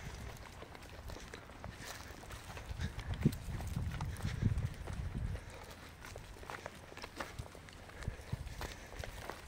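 A flock of twenty-three local sheep walks near Azrou, Morocco, their hooves making faint, scattered clip-clop steps that cluster more densely at times, with no speech.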